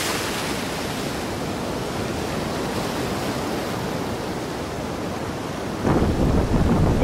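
Continuous roar of heavy winter storm surf crashing on the west coast of Crimea, with wind noise and a louder wave surge near the end.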